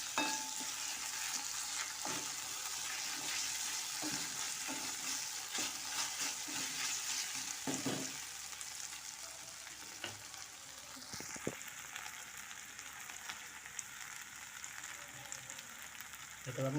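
Ginger-garlic paste frying for a Malvani-style potato bhaji makes a constant close sizzle, with the spatula tapping and scraping the pan at an uneven beat and no voices.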